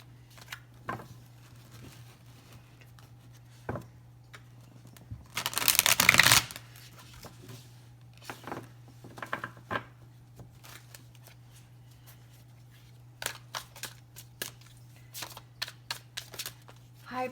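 Tarot cards are shuffled in one loud riffling burst of about a second, close by, followed by sparse quiet card handling and soft taps over a low steady hum.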